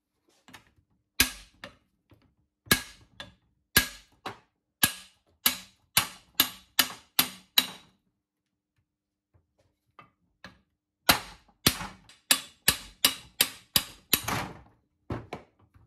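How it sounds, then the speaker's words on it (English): A copper hammer strikes the parts of a Mopar 833 four-speed manual transmission being disassembled, giving sharp, loud, close metallic taps in two rapid bursts of about ten blows each, with a quiet pause between them. "I use a copper hammer."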